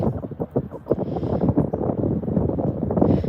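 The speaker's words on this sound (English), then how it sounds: "It is windy here" Gusty wind on a city walk in Fredericton buffets the microphone, producing a low, rumbling roar that rises and falls continuously without pause.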